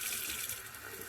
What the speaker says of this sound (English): So when you turn on the faucet, water comes out right there